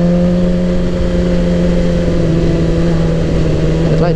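A 2007 Suzuki GSX-R 1000 liter-bike engine runs at a steady, close drone with a strong low hum and light throttle, holding an even level for about four seconds with no talk.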